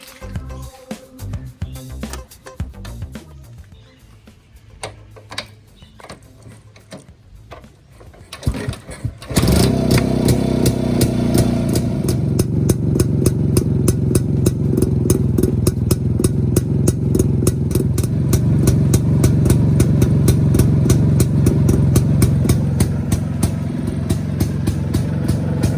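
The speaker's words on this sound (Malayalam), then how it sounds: "നമുക്ക് ഏതായാലും ഈ വാഹനം ഒന്ന് സ്റ്റാർട്ട് ചെയ്ത് നോക്കാം." A vintage 1970 Jawa 353 250cc two-stroke motorcycle fires up after a quiet stretch and settles into a loud, steady, rapid-popping idle that runs nearly close-up and continuous to the end.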